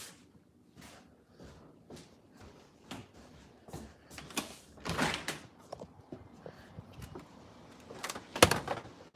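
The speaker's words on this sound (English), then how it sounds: "We'll go right out the back door." A house back door opens and closes as someone heads outside on a warm day: a few close clunks, rattles and a firmer thud near the end, with light handling noises between.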